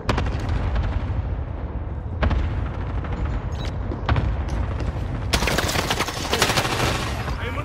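Rapid gunfire and booming blasts from a Call of Duty Warzone Resurgence match, loud and continuous with bursts of automatic fire and sharp impacts throughout.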